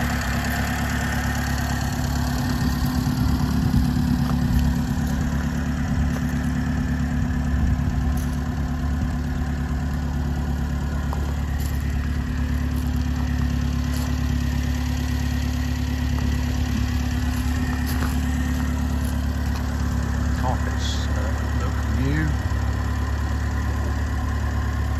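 A Morris 8 Series 2 Tourer with a new battery and fuel pump idles steadily throughout, a continuous low engine drone running evenly and close with no voices.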